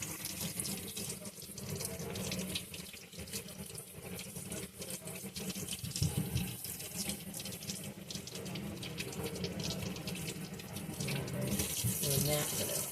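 Kitchen tap water runs steadily into a sink while potatoes and a green pepper are rinsed, a continuous close splashing rush that lasts throughout, with faint handling sounds mixed in.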